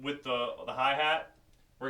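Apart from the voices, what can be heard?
No distinct noise like a dog, phone or traffic.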